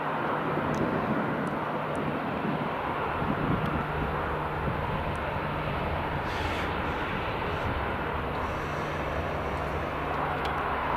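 A Boeing 737-800 departs Aberdeen Dyce Airport, its jet engines making a broad, steady roar heard from outside at moderate distance, with wind buffeting the mic.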